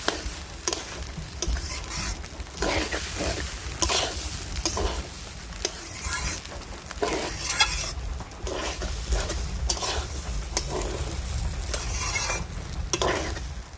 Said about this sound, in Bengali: ডাল আর চাল ভালো করে আমি মশলার সঙ্গে একটু সময় কষিয়ে নিয়েছি